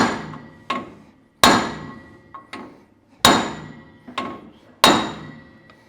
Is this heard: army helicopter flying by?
no